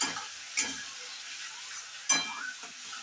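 Chili powder and vegetables frying in a pan at home, a soft continuous sizzle broken by two sharp scraping stirs of a spoon against the pan.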